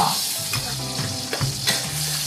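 Thai red curry paste sizzles and crackles steadily in a hot pan, with a few scraping stirs and clinks of a utensil against the metal.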